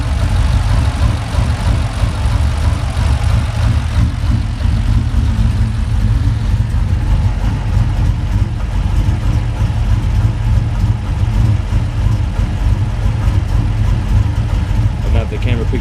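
A warm car engine, fitted with a new airbox and exhaust, idles steadily with a deep, loud rumble and a fast pulsing beat, and speech is heard over it.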